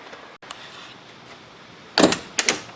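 Side door of a Ford Crown Victoria, freshly repaired, opened and then shut: two sharp, loud broadband thumps close together near the end, after a quiet stretch with a faint click.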